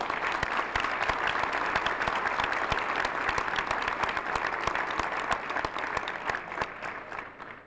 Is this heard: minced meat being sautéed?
no